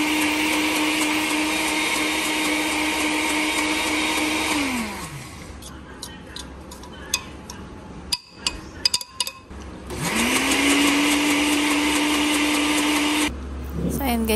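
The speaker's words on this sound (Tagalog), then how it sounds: "Saglit mo lang naman siyang i-blend." Blender grinding peanuts into peanut butter for a dog, a loud high whirring motor running for several seconds, winding down, a pause with a few knocks and clatters, then spinning up loudly again, with a voice talking over it.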